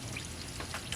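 Engine oil draining from a truck during an oil change, a soft continuous pouring splash of liquid, faint and steady for a brief moment with no talk.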